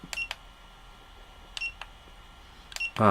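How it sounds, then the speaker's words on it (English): A DJI Neo drone's ESCs give three short, sharp electronic beeps spaced about 1.3 seconds apart, faint and close in a quiet room, followed by a brief louder tone at the end. "ESC beeping"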